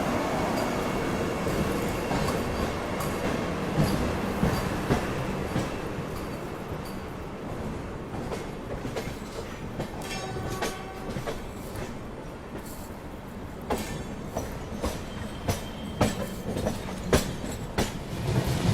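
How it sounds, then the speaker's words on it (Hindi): A Vande Bharat Express runs at speed in the evening, its steady loud rumble filling the air with rhythmic clickety-clack from the wheels on the rails and occasional brighter squeals layered over the constant roar. "वंदे भारत एक्सप्रेस।"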